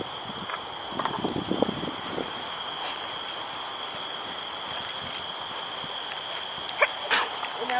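A single sharp sneeze bursts out from a person outdoors at night during full-moon viewing, standing out briefly over steady background hiss and faint low murmurs.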